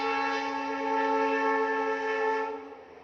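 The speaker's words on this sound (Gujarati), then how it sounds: "ટ્રેન નીકળી એટલે થોડુંક ડિસઅન્ડરસ્ટેન્ડ થઈ ગયું" A train horn blares steadily and loudly for about two and a half seconds with a rich chord of tones, then trails off and fades as the train moves past.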